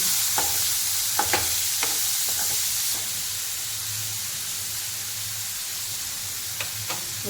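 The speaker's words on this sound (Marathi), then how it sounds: "एक मोठा कांदा कापून घेतला मी थोडं परतून घेऊया आपण" Sliced onion being sautéed in a pan for a dry cauliflower dish, giving a steady soft sizzle and hiss throughout with a few light stirring scrapes and clicks, no talking.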